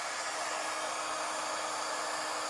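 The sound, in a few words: heat embossing tool melting embossing powder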